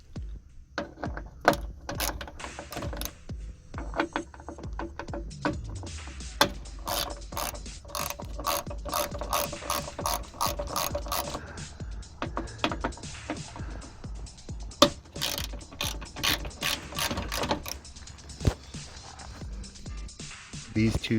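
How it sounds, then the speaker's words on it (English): A ratchet fitted with a T30 Torx bit loosens the three door latch bolts on a Dodge Neon. It gives many rapid clicking bursts, close and sharp, repeated across the whole stretch. "you're gonna need a T30 Torx bit in order to get these 3 bolts here for the latch."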